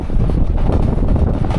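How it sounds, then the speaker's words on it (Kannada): Cool wind gusts just before rain in an open outdoor spot, a loud, rumbling buffet of air hitting the microphone continuously with no other clear sounds. "ಈ ಮಳೆ ಬರೋದಕ್ಕಿಂತ ಮೊದಲು ಅದೊಂದು ತಂಪು ಗಾಳಿ ಬರ್ತದೆ ನೋಡ್ರಿ."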